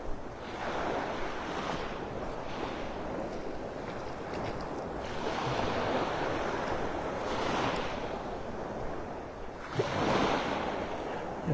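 Surf rolls onto Vanderbilt Beach in North Naples, Florida, with broad washing waves swelling and receding every few seconds under a steady wind-blown hiss, heard up close while walking along the shore.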